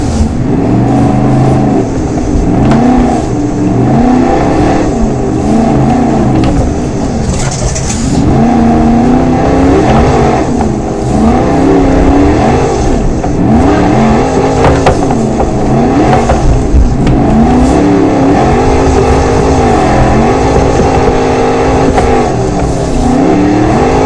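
Car engine in the BeamNG.drive driving game, climbing off-road hills and popping a wheelie: a loud, continuous engine note that rises and falls through repeated revs and gear changes, close and constant throughout.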